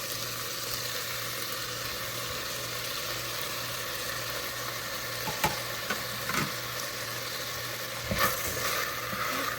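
Tomatoes sizzle steadily in a hot pan for chole pulao, a constant broadband fry hiss with a low hum beneath and a few louder scrape-like bursts from stirring near the end.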